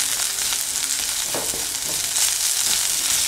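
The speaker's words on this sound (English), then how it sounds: "Stir it for 30 seconds like this." Chili and coriander powder sizzle with shrimp curry in a pan, a continuous close frying hiss broken by a few soft scrapes of stirring, no voices.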